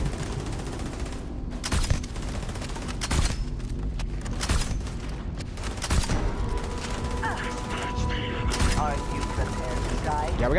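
Repeated gunfire bursts from a weapon in Starfield's hardcore survival mode, sharp loud shots spaced irregularly over mechanical clatter and game ambience, with faint talk underneath.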